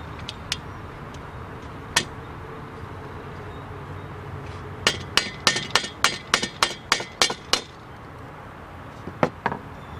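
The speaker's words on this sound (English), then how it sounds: "Lightly tap it in." Light tapping while fitting a piece of a greenhouse frame into place during assembly: a few scattered taps, then a quick run of about a dozen sharp, evenly spaced knocks, with two more near the end over a quiet room background.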